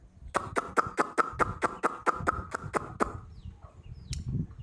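Native country chickens cluck and peck at scattered grain in a quick, even run of close, sharp notes that stops abruptly, followed by softer scattered scratching.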